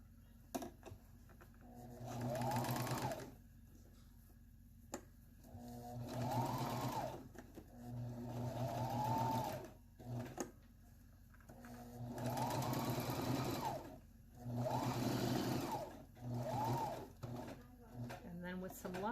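A sewing machine stitches a seam on high-waisted denim mom jeans in several close, whirring bursts of a few seconds each, separated by quiet pauses.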